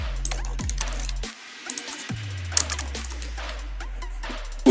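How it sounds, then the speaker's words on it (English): Light tapping of keys on a computer keyboard, scattered quick clicks over a low steady hum, fairly quiet and without speech. "For now I am typing here"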